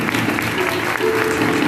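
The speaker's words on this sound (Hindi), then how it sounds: "रीना ये हैं, इनके लिए जोरदार तालियां बजाएंगे" Brief burst of vigorous applause from a prayer-meeting audience welcoming Sister Reena, dense and steady with a faint crowd murmur underneath.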